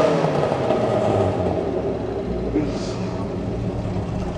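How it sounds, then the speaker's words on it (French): A 1958 MG MGA classic sports car with a four-cylinder engine runs nearby, giving a steady low rumbling drone with a slight rise in revs, under a mix of background noise. "elle a un très joli bruit pour une 4 cylindres"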